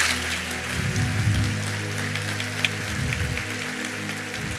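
A church congregation in a Brazilian service claps for its cell leaders and hosts, a broad, steady wash of many hands with a low hum of music or room noise underneath, continuing evenly for several seconds without speech.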